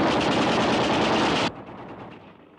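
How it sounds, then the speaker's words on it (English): A firing squad volley of rapid rifle fire, a loud sustained burst of overlapping shots that cuts off abruptly and leaves a fading echo. "That was a firing squad, my dear Nielsen."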